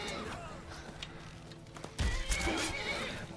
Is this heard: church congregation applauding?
no